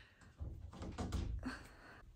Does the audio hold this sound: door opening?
yes